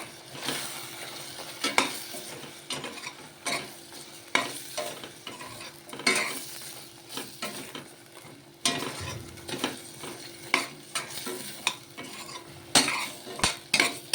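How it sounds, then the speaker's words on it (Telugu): A spoon stirs mutton gongura curry in a pot, with repeated metal clinks and scrapes in a loose rhythm over a low, steady sizzle, close and fairly loud. "రెండు స్పూన్లు వేసి కలుపుదాం మంచిగా"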